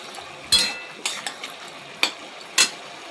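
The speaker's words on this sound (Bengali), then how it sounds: "একবার নেড়ে দেব" A sesame mixture for til khero is stirred in a pan: four or five distinct spoon scrapes at uneven intervals over a quiet background, close and fairly crisp, with no one talking.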